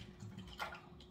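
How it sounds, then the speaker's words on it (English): Homemade apple cider vinegar being strained, a soft trickle and pour of liquid with a brief splashy swell midway, faint and close against a quiet background. "So I'm just straining it"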